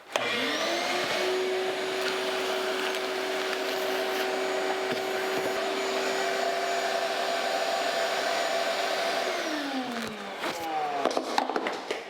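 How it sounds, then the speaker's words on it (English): A vacuum cleaner runs in a workshop during work on a 1982 Jeep CJ7, switching on with a rising whine and then roaring steadily before winding down near the end. "I'm going to get the vacuum cleaner and vacuum that out."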